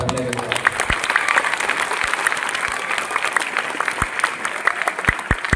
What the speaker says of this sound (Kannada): ನಮ್ಮ ದ್ವಿತೀಯ PUC ವಿದ್ಯಾರ್ಥಿಗಳಿಗೆ ಒಂದು ಜೋರಾದ ಚಪ್ಪಾಳೆ ಬರಲೇಬೇಕು